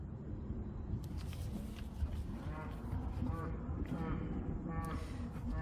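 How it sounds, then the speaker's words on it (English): A cow lowing somewhere out in the countryside, heard as a couple of drawn-out moos rising above a steady background hum and some indistinct voices, moderately close but fairly quiet overall. "Sorry, that's our local cow."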